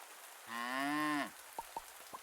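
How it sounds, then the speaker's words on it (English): A cow on a homestead farm lets out one long, close, resonant moo lasting under a second, followed by a few faint, brief knocks. "She's a good cow."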